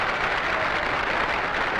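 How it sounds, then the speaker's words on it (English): Crowd applause at the 1965 MLB All-Star Game after Harmon Killebrew's home run, a dense, steady roar of clapping from a large stadium crowd with no break. "Brooks Robinson adds some applause of his own as he scores."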